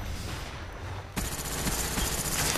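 Automatic weapons fire rapidly in a first-person shooter game on a capture-the-flag map, quiet for a second and then bursting into loud, dense gunfire that keeps going.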